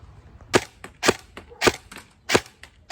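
Sharp, dry reports from a Black Rain Ordnance Spec 15 airsoft rifle firing BBs, five evenly spaced shots about half a second apart, close and crisp with quiet gaps between.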